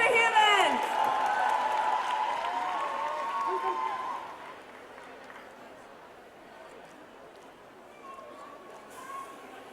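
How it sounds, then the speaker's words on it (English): Audience applause at a Tetley Super Green celebration event, a brief loud burst of clapping and cheering at the start that fades into quieter crowd murmur, with a few scattered claps later. "give yourselves a big round of applause"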